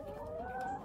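A chicken on a farm in Jamaica gives a brief, steady, throaty cluck-like call, fairly close and soft, heard alone without talk.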